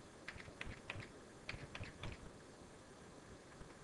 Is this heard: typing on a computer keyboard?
yes